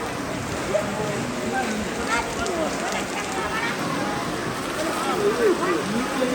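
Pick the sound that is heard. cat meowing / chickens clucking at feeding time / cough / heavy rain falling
heavy rain falling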